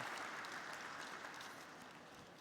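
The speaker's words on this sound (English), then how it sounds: "I think you all deserve a thunderous round of applause for this." Thunderous audience applause at a stock exchange listing ceremony, a dense continuous wash of clapping from a large crowd that fades slightly toward the end.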